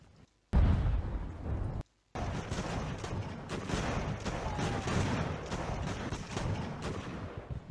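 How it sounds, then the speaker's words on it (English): Coastal battery cannons fire in the Ultimate Admiral: Age of Sail naval game, heavy booming blasts rolling into one another, loud and continuous with a brief cut of silence near the start. "Just a quick capture of a coastal battery."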